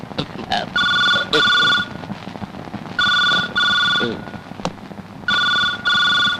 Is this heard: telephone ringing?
yes